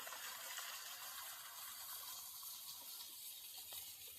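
Dudhsagar waterfall pours over rocks, a soft, continuous hiss of falling water heard from a distance, steady and unbroken with no voices.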